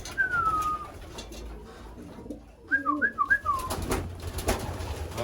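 Racing pigeons around the loft after a 500-mile race make a single whistled note, then a quick run of throaty coos and whistles. The calls are close and clear over quiet background noise.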